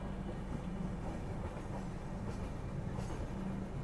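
Aboard the Coromandel Express nearing Khurda Road station, a steady low rumble of rolling wheels and car noise, with faint clickety-clack, continuous and even throughout.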